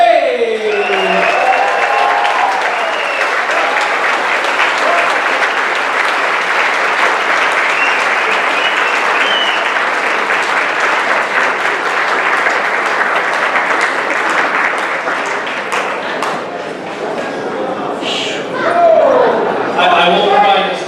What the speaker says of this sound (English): join me in one last round of applause